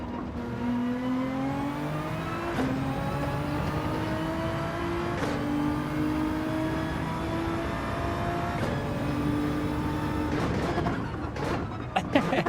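A Porsche race car engine in Gran Turismo 7 drones steadily and revs up and down through gear changes on a racing circuit, loud and continuous throughout, with brief sharp shifts in pitch.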